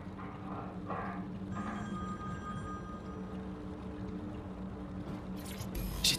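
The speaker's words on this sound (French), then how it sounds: "Le téléphone doit être dans la chambre." A phone rings in the Watch Dogs Legion video game, sounding as a few repeated electronic ring tones over a quiet room ambience, followed by brief clicks and handling noises at the end.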